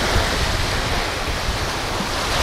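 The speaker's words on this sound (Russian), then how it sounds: "Только шум волн. И чайки летают." Sea waves washing onto an empty off-season beach at Popovka in Crimea make a steady, close, continuous roar of surf with no voices.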